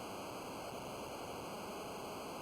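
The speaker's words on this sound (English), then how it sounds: "Ooh, waterfalls." Steady, even rushing of a waterfall in the Final Fantasy IV game, a constant soft hiss of falling water with no voices.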